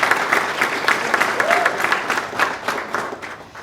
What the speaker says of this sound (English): give the leadership of Dan Staples a huge round of applause